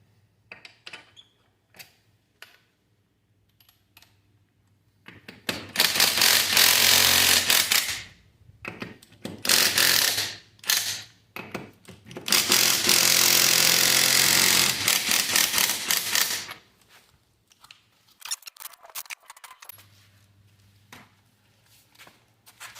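Removing the wheels from a bike with a special key, heard as loud bursts of a pneumatic impact wrench rattling in long, forceful runs. Quieter clicks and handling sounds fall between the bursts, and no one speaks.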